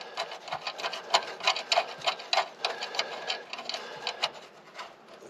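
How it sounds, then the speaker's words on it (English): A metal nut spins onto a bolt during go-kart work, giving a close run of rapid, irregular metallic clicks and ticks with no speech. "It must be because it's threading on there."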